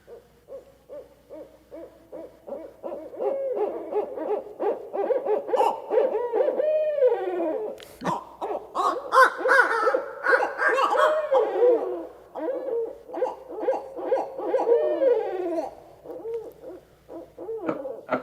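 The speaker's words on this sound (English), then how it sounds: "that symphony of barred owl calls" Barred owls call back and forth in a lively chorus of deep rhythmic hoots and long quavering trills, several birds overlapping for a sustained stretch, fairly close and clear.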